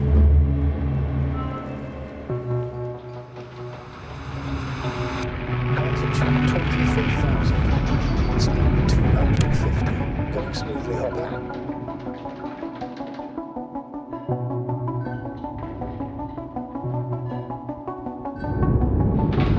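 Aircraft engine throttling down for landing in the sci-fi game The Invincible, a steady droning hum with tonal layers that swells and then eases lower, with a voice talking over it at times.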